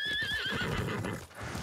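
A horse neighs loudly in a rising and falling whinny, with hooves and rustling movement close by, in the video game Ghost of Tsushima.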